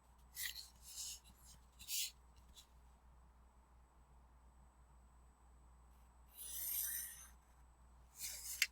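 Pencil strokes drawn along a ruler to mark a half-inch border on paper, heard as several faint, close scratchy scrapes in separate bursts, some short and one longer, over a quiet background hum.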